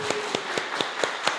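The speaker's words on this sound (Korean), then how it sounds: "우리 권사님을 향해서 우리 박수 한번 쳐드릴까요?" A handful of claps for a church deaconess from a Sunday congregation, six sharp evenly spaced hits, fairly close.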